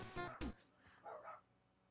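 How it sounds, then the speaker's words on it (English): Pet dogs bark a couple of sharp times up close, then give softer, more distant yips as things settle. "I hear my dogs flipping out, my dad's home."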